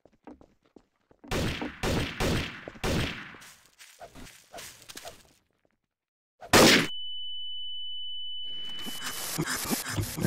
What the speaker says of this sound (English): Air gunshots.